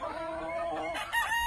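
A gamecock rooster crows in a farm pen, a single drawn-out call that rises to a loud finish, with other fowl sounding faintly in the background.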